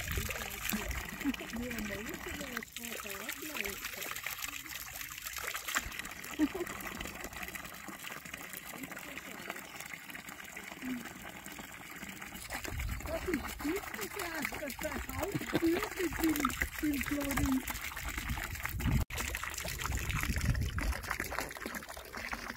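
Water trickling and splashing at a spot where cows drink, on an alpine meadow in Aelpli above Malans, Graubünden, Switzerland, a steady faint flow running throughout with people talking over it.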